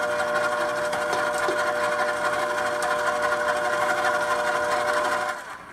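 An electric mixer beats butter with sugar for vanilla sponge bread, a steady loud whir with a constant motor drone running throughout before easing off at the very end; no one speaks.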